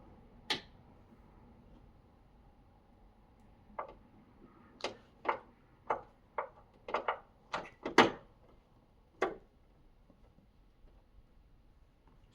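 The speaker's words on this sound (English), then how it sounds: "Pop that little ball socket." Ball socket of a Tesla Model 3 frunk lift-support strut being pressed into place, heard as a string of sharp, close clicks and small snaps with short pauses between them in an otherwise quiet space.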